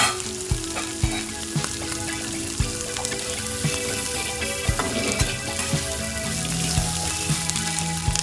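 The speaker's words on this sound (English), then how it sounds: "stirring it softly until it becomes a little soft and golden brown" Kabuli chana ghugni with potatoes frying in a pan, sizzling steadily and evenly throughout, with the soft knocks of a spoon stirring at intervals and no voices.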